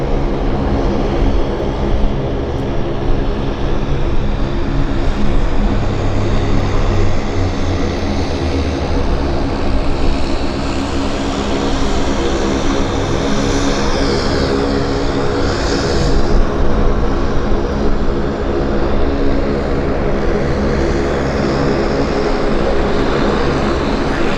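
A Beech 1900D turboprop airliner comes in to land at Vancouver International Airport, its propeller and engine drone loud and continuous throughout, with a slowly shifting whine as it passes close by.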